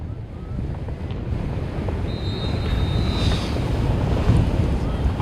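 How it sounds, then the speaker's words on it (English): Strong gusty crosswind buffets the microphone at a high school football field, a loud steady rumble that swells and roars throughout. "See, the wind is all over the place right now."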